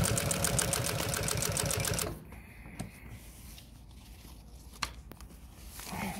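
A Consew 206RB-5 walking-foot sewing machine stitches heavy canvas in a fast, loud, even mechanical rattle for about two seconds, then stops, leaving only faint handling clicks and knocks.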